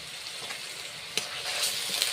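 Onion with garlic paste frying in a pan, a dense continuous sizzle with scraping stir strokes and a sharp clack of the spoon partway through.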